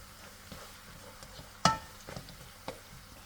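Singaporean fried rice stirred in a pan, a soft continuous sizzle broken by a few sharp scrapes and clacks of a utensil against the metal.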